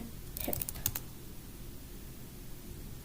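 A short burst of keystrokes on a computer keyboard, several quick clicks in the first second followed by near silence, faint and close with no voices.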